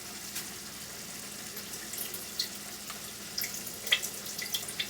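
Liquid drains from a can of black beans into a sink, a faint, steady trickle with scattered small splashes and drips, and no talking.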